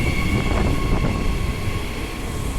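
The Indian Pacific passenger train moves off at a Perth station, a steady rumble of rolling stock with a faint tonal whine, continuous and fairly near with no talk.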